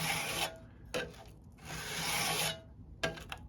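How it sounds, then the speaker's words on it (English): A file rasps across a card scraper edge on a Rockler sharpener in several separate strokes, some short and one long, close up and fairly quiet. "it's only filing the main surface and not these edges."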